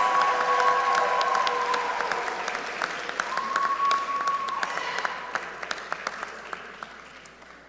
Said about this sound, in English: One more round of applause for our chemical and electrical engineering